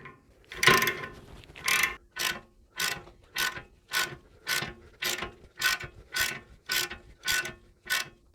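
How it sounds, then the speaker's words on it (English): A socket wrench with a 19mm socket ratchets a tie rod nut tight during a Toyota Land Cruiser swivel hub rebuild, about a dozen crisp, evenly spaced clicking strokes up close, loud and steady with no talk. "take a 19mm socket on a socket wrench, and we're just going to do that up the rest of the way"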